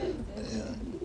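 Pet pigeons or doves being driven off on a trip coo softly in short murmuring bursts, mixed with muffled vehicle rumble and low background voices.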